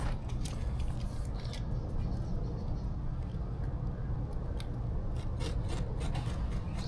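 A hand cutting tool works through HVAC ductwork with a rough, rasping scrape, steady and close, broken by a series of sharp snips and clicks.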